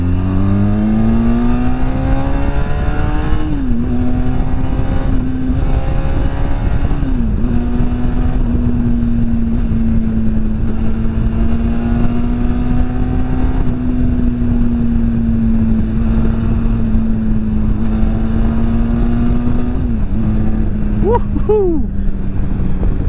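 A Benelli TRK 502 X 500cc motorcycle engine drones steadily at close range, its pitch climbing and dropping through several gear shifts as it accelerates, loud and continuous with wind noise over it.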